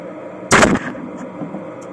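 A CBC 32-gauge shotgun fires a single round slug outdoors, producing one loud, sharp blast followed by a brief decaying tail and then quiet.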